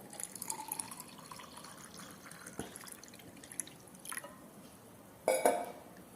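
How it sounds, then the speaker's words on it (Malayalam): Beetroot and carrot juice is poured into a glass over soaked seeds, a faint trickle with scattered drips and a short, louder splash near the end in a quiet kitchen. "ജ്യൂസ് ഒഴിക്കാം."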